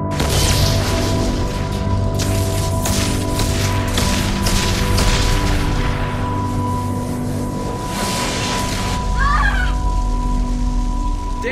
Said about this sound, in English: Explosion in main engineering.